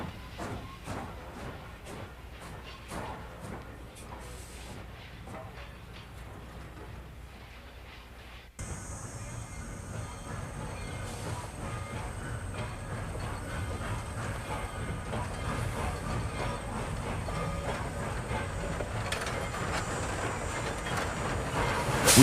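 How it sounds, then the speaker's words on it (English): Norfolk and Western steam locomotive number 196, a 2-8-0, heading out for switching duties in 1957, a continuous rolling rumble with hissing steam and rail clatter that grows louder and fuller, with no voices. "Norfolk and Western number 196, a 280, heads out for its daily switching duties."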